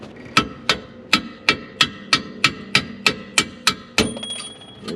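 A hammer strikes a small flathead screwdriver about a dozen times in steady rhythm during front and rear shock and strut work on a Pontiac G8, each blow a sharp, ringing metallic clank, close and loud, with no talking.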